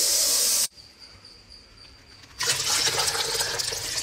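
Water streams into a mini washing machine with a loud, steady hissing rush, stops abruptly for about two seconds, then starts again just as loudly, close by.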